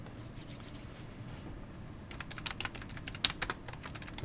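Typing on a computer keyboard starts faintly, then picks up into a clustered run of crisp, close key taps with one sharper click, all quiet and without talk.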